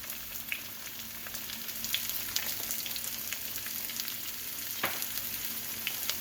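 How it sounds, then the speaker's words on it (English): Sliced zucchini with red pepper flakes and smoked paprika stir-fries in a hot pan, a steady close crackling sizzle with occasional stirring scrapes and pops, no voices. "And we want to stir fry this for about 7 minutes or so."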